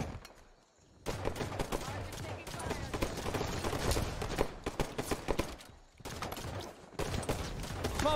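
Rapid bursts of Halo 5 video game gunfire in a competitive match, dense volleys after a brief quiet, pausing near six seconds then resuming, with voices talking underneath.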